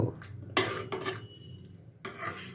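Ghee stirred into cooked arhar dal inside a pressure cooker, a spoon scraping and knocking against the metal in short bursts with brief pauses between strokes.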